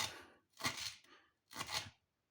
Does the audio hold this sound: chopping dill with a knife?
yes